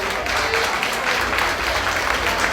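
Steady applause from a fundraiser audience, many hands clapping together in a continuous, even roar that holds at a constant level throughout.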